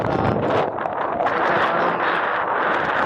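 Cold wind gusts across an open groundnut field, roaring steadily against the microphone as a dense, unbroken rush at fairly loud level.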